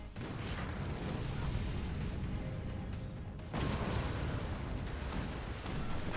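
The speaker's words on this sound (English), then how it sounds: "But a cannon should help decide this game." Cannon fire in the video game Forts, heavy booming blasts and crashing impacts over a dense battle din, with a sharp new blast midway.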